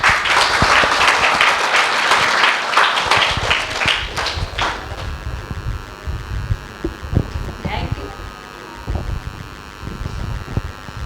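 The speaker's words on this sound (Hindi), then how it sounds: "उनके लिए जोरदार तालियां" An audience at a school's Independence Day function on 15 August 2022 claps loudly in dense applause for about five seconds, then the clapping thins into scattered claps under a hum and some talk.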